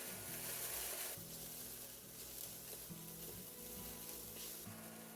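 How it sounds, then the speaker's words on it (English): Garlic frying in a pan gives a faint, steady sizzle close by, with a repeating low thrum running underneath and no speech. "Then add in the garlic and cook them until lightly caramelized."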